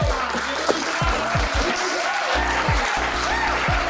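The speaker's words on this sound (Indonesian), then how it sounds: "Oke, kita kasih tepuk tangan dulu." A conference crowd claps for a speaker: continuous, fairly loud applause under a repeating low thumping beat, with no clear voices.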